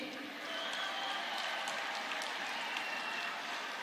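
An audience claps steadily through a political meeting, a continuous wash of applause from a crowd, fairly distant and even.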